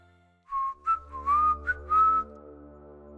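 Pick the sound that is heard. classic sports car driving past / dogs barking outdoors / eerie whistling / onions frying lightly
eerie whistling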